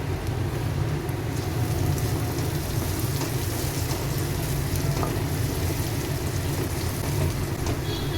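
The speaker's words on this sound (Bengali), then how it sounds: "সুন্দর পেঁয়াজটা মশলার সঙ্গে ভেজে গেছে" Onions fry with spices in a hot pan, giving a steady, dense sizzle and crackle that stays loud and constant throughout without any talking.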